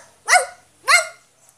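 A man imitates a dog, letting out two loud, close, barking yelps with a short gap between them, no other sounds around them.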